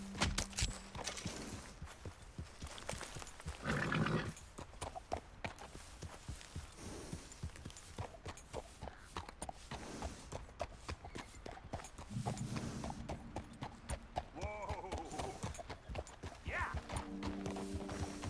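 Horse hooves clop in a steady walking rhythm in the video game Red Dead Redemption 2, joined by occasional snorts and a whinny, with light music or tones in the background.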